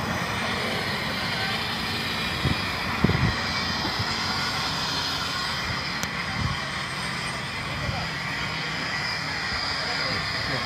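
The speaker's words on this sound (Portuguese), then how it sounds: "E tá com a turbina ligada, hein?" An airplane jet turbine running, a steady broad roar that fills the whole clip at constant loudness, with a few brief knocks and faint voices underneath.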